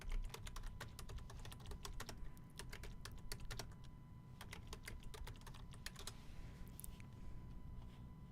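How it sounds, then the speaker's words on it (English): Rapid bursts of keystrokes on a computer keyboard, close and crisp, in uneven runs with short pauses between words, over a faint room hum and no talking. "let's type this in"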